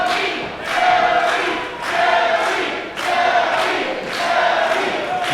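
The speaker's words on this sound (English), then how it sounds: "So this crowd getting behind Zoe Sky here." A wrestling crowd cheers for Zoe Sky, loud and close, swelling in rhythmic waves like a chant repeating about once a second, with no voices standing out.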